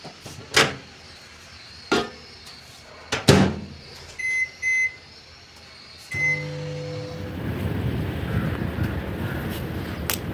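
A microwave oven warms leftover food. A few short sharp knocks and clicks come first, then two beeps and the door closing. The oven then starts its steady hum, which runs loud to the end.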